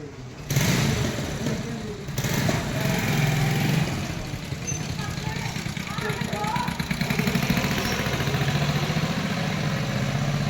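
A tractor's low, chugging engine runs continuously nearby, rumbling steadily with slight shifts in pitch, while voices talk over it.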